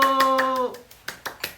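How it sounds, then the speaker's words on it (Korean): Scattered clapping from a small audience during a live-stream song release greeting, a few distinct claps following a fading musical tone. "박수!"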